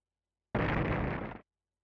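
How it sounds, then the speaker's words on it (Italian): A firecracker bomb blast in a video game, a single loud, close burst that cuts in sharply and holds for about a second before stopping dead. "quella era una bomba petardo"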